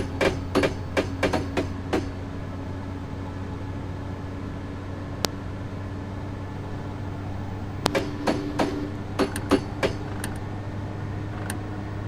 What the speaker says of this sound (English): So in increasing the power in this locomotive, I'm trying to do it gently and gradually just to ensure that there's no overload